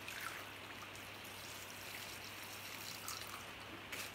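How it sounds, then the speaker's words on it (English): Water poured into a flower arrangement set on a pin holder, a steady soft trickling and splashing stream heard close up, continuous and fairly quiet throughout with no talk. "I'm now going to pour the water in."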